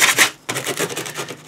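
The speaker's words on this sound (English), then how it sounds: "I'll be using the sanding sponge, the heavy grit sanding sponge" Heavy-grit sanding sponge rubbed over the seams of a prop: close, loud abrasive scrubbing strokes with a brief pause between passes.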